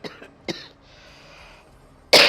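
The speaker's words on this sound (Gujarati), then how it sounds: "ઉધરસ પણ કેટલી કયાગરી છે જોવો ને" Sharp coughs ring out indoors at a home: two short ones close together at the start, a quiet pause, then a louder, harsher burst at the end, with no speech.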